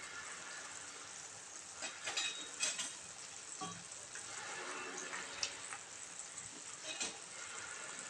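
Milk and dry fruits stirred in a pan over a low flame while making the sweet double ka meeta, heard as a soft, continuous simmering hiss broken by faint scraping strokes and small clinks.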